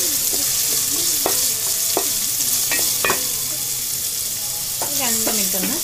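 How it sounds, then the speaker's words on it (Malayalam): Carrots and mixed vegetables for vegetable Maggi noodles sizzle steadily in a pan while a utensil stirs them, scraping clicks recurring every second or so, close and fairly loud. "നമുക്ക് ആദ്യം ക്യാരറ്റ് ഇട്ട് കൊടുക്കാം. ഒന്ന് നന്നായിട്ട് ഇളക്കി കൊടുക്കാം."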